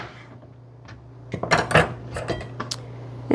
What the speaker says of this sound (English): And then I take the little knife and slice off the bottom so it can rest.